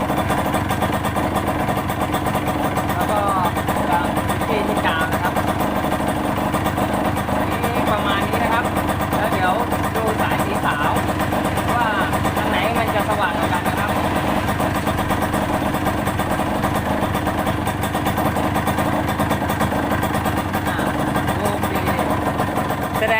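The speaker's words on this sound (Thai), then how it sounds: "ผมก็ได้ติดเครื่องไว้แล้วนะครับ" A Yamaha YL2 motorcycle engine idles close by with a steady, dense mechanical chugging that runs unbroken and loud throughout, with someone talking over it.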